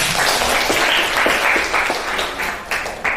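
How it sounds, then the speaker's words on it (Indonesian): Audience applause in a teaching session, a steady wash of many hands clapping at close range with a few louder claps standing out, filling the whole stretch. "Oke, tepuk tangan untuk kita semuanya."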